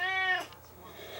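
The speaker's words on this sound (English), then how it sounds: "Cat doesn't want to go back in the house." A house cat gives a single short, close meow, followed by quieter room sound.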